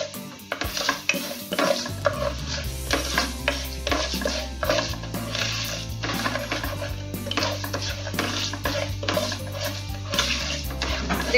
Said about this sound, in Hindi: उड़द दाल को अच्छे से हमें भूनना है